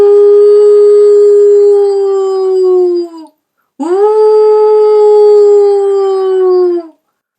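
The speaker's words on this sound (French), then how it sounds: "Puis ce fut un hurlement dans la montagne." A wolf howls in the mountains, two long sustained tonal howls, each gently falling in pitch, close and loud with a brief silent gap between them.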